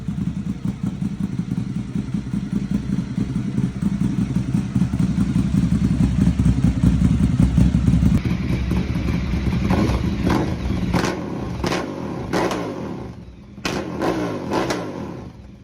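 Ducati Monster 1100 Evo motorcycle engine running loud and close, rumbling steadily before settling into a lumpy idle punctuated by several sharp throttle blips and clattering pops near the end.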